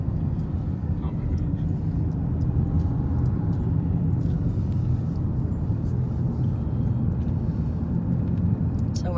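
A car descending a steep, winding road into Zion National Park from the east entrance, heard as a constant close low road rumble inside the vehicle, steady the whole way.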